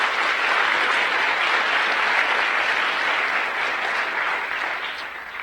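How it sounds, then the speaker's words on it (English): An audience at a school district superintendent finalist forum gives teachers a sustained round of applause, a thick even wash of clapping that holds steady and tapers slightly at the close. "I just want to give those teachers just another round of applause"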